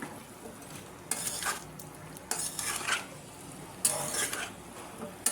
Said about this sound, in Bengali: এটা নেড়ে চেড়ে এখন ঢেকে দেবো